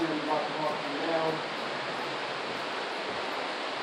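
Steady broadband rush of water flowing beneath the historic covered Jericho Bridge over a canal, a constant close wash of noise, with a voice briefly speaking over it at the start.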